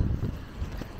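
Strong, cold wind buffets the microphone outdoors on a rainy street corner at Eglinton and Dufferin, a steady low rumbling roar with gusty swells and no voices.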